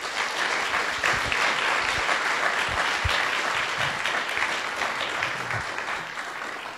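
A round of audience applause at a learning design summer camp session, many hands clapping in a continuous even wash at moderate volume, with a few louder thumps scattered through it.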